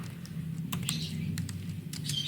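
Rapid clicks of a computer keyboard as router OSPF network commands are typed, the uneven bursts of keystrokes close up over a low, steady background hum.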